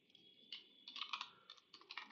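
Code being typed on a computer keyboard while writing Rust, heard as quiet, irregular bursts of key clicks with short pauses between them.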